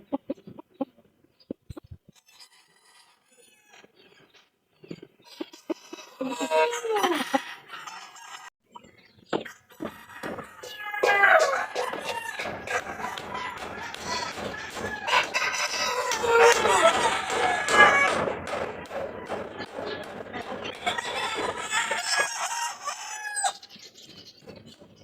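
A rooster crows and clucks among other chickens, starting faint and sparse, then growing into loud, busy crowing and clucking through the second half, with a few scattered sounds early on.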